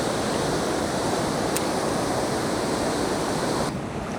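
Water spilling over a dam wall in a northwoods creek, a constant loud rushing roar, close and unbroken, easing slightly at the very end.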